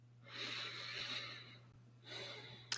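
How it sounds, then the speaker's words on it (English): A person draws in a long, deep breath, then a second slow inhale follows after a pause; both are close and soft over a low steady hum. "And breathe that in."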